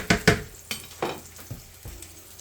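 Onions fry in a pan with a constant sizzle, broken by several sharp scraping stirs and clatters spaced about half a second apart, close and clear.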